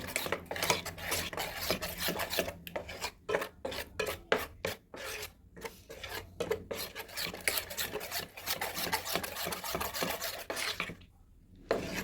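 Pakora batter laced with black cumin is whisked briskly in a bowl, a steady run of close, scraping rasps and wet stirring strokes with brief pauses, no voices.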